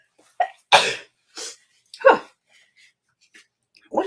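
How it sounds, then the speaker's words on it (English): A single person sneezes once, loud and close, with short breathy sounds and throat noises before and after, in an otherwise quiet room. "I'm going to sneeze."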